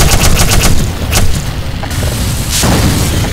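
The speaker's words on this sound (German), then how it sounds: "Da schießt doch einer." Gunfire in the Black Mesa video game, a burst of loud repeated shots near the start followed by further sharp blasts and a boom toward the end, heavy and close, with no talk.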